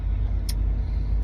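Inside a car stuck in rush-hour traffic near Langley, a low, steady engine and road rumble drones on, with a brief faint hiss partway through.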